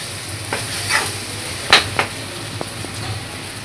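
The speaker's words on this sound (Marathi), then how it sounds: "मसाले भाजून घेतले की." Spices roasting in a pan for stuffed brinjal bhaji: a soft, steady frying hiss with a few sharp scrape and tap sounds from stirring, one louder clack near the middle, close and without talk.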